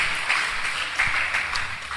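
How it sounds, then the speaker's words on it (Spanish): A church congregation at an evangelistic service claps together in a moderate, steady patter, with murmured voices and a few louder claps standing out. "Dele palmas, aleluya."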